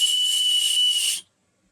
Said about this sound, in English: it's supposed to be a high-pitched whistle